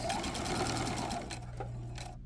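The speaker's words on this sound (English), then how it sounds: "I am stitching it from the right side of the garment" A sewing machine runs steadily, stitching bias tape onto a garment neckline from the right side, a close, continuous mechanical whir with a brief slowdown near the end before stopping.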